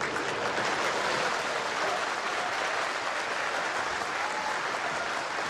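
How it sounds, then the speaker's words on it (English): Loud, sustained applause and cheering from a large snooker crowd during the 2017 final between Ronnie O'Sullivan and Judd Trump, a dense steady roar of clapping lasting throughout with no voices standing out. "that's the biggest cheer of the day for a snooker"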